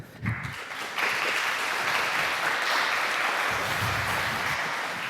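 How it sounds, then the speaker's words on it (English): Audience applause at a conference talk on digital sovereignty and open-source software in schools, a steady dense wash of clapping that swells in after a brief quieter start and holds loud and even throughout. "So big applause for Geert."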